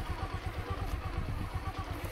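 A Bajaj Platina motorcycle engine putters as the bike pulls away with the clutch eased out, a close, rhythmic low thumping with light mechanical clatter.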